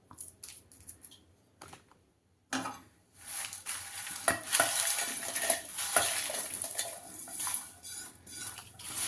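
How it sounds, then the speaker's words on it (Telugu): Dried red chillies and curry leaves frying in a pan: quiet clinks and taps at first, then a loud crackling sizzle with a spoon scraping and rattling against the metal until the end. "మిరపకాయలు, కరివేపాకు చూడండి ఇట్లా పలపల అనేదాకా వేయించుకోవాలి."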